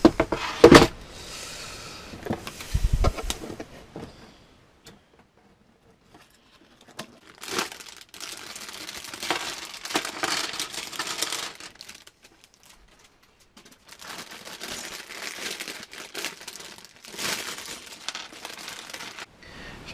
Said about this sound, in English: Right, cut the box open.